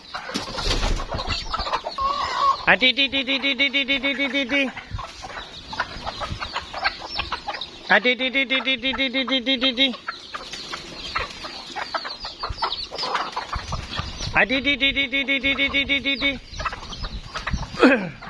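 Chickens and a brood of chicks fill the air with scattered clucks and chirps, close by, broken three times by longer, steady tonal calls lasting about two seconds each.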